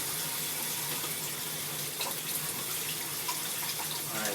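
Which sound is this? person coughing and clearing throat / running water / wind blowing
running water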